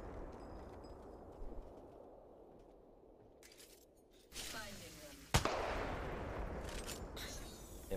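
Gunfire from an Apex Legends match bursts out loud around the midpoint after quieter ambience, with a sharp crack followed by sustained noisy firing and action to the end.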